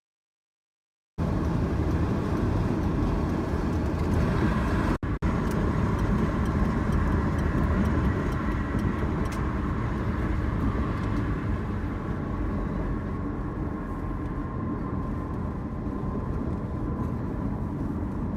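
Car cruising on a freeway, a continuous loud road and engine roar holding steady for the whole stretch, with no one talking over it.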